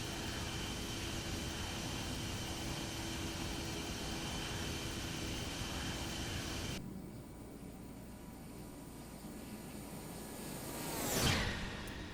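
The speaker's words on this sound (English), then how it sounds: "Cool little flyby shot to show how fast this plane was actually going." An airliner sweeps past in a flight simulator video game, a steady broad jet roar that drops in level midway, then a sharp whooshing pass swells and falls near the end.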